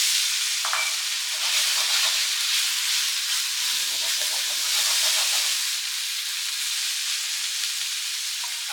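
Steady, loud sizzling hiss of beef searing in a hot wok with a little oil, with occasional scraping and stirring sounds throughout.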